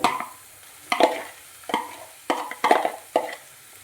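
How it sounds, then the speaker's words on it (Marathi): Leftover rice gets stirred into cooked vegetables in a pan, heard as six or seven scraping spatula strokes over a soft sizzle, close and fairly loud, with no talk. "उरलेला भात आपण यामध्ये टाकलेला आहे याला मिक्स करून घेऊयात"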